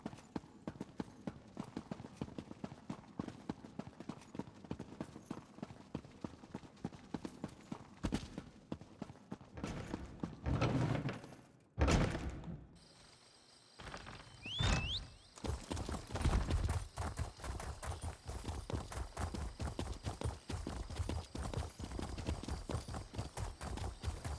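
Horse hooves clip-clop in a video game at a steady trotting rhythm, moderately close, with a brief interruption of other game sounds midway before the even hoofbeats resume and carry on to the end.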